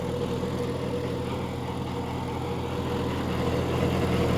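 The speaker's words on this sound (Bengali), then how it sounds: "গাড়ির কোনো ইঞ্জিনে লোড নাই" A John Deere 5050D tractor engine runs with no load, a steady, even low rumble held close and constant throughout, with no voices over it.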